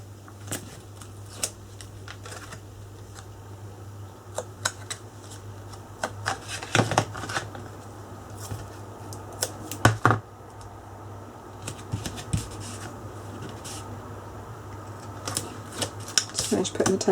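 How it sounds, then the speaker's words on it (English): Tape is applied around the edges of paper while a beginner's expanding mini album is assembled, giving soft scattered crinkles, peels and taps close by, quiet and intermittent over a low steady hum, with a voice speaking now and then. "Just finish putting the tape around the edges."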